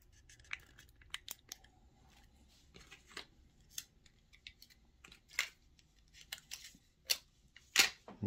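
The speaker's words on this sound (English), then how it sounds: "So we'll get some tape on the sides here." Masking tape is pulled and pressed along the sides of a small custom Gaslands toy car, a string of short close ripping and crinkling bursts with quiet gaps between them.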